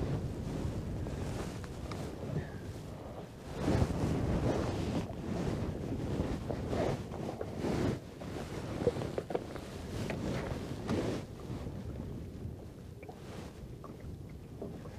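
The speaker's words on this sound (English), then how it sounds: "Yes, that wind's getting a bit fresh now, Carl." Fresh wind buffeting the microphone while lure fishing for perch and trout from the water, a continuous gusty rumble that swells and eases in waves, with no speech.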